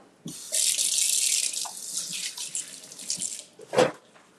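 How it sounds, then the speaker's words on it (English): Tap water runs into a kitchen sink as hands are rinsed under it. A steady close splashing stream stops partway, then a short final splash follows. "Wash my hands again."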